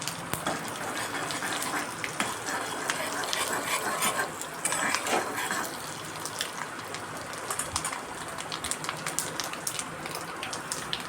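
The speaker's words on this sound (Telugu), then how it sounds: "మూడు స్పూన్ల ఆయిల్ వేసి పోపు పెట్టేస్తున్నాను" Tempering of garlic and spices in about three spoons of hot oil for black-eyed pea rasam: a continuous crackling sizzle with scattered sharper pops, moderately quiet and close.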